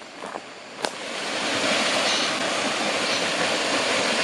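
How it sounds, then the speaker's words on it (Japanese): A waterfall and river rush far down inside a karst cave on Okinoerabu island, making a broad, steady roar that swells and holds after a couple of brief knocks at the start. "川があって滝がある。"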